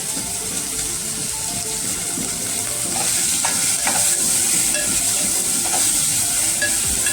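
Chopped onion sautéing and being stirred in a pan for a cauliflower-potato sabzi, a steady close sizzle with soft scraping strokes that grows a little louder midway, no talk.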